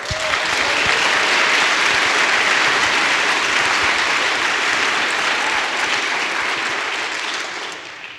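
Sustained audience applause fills a festival hall at the Texas Tribune Festival, loud and dense for several seconds before tapering slightly at the end.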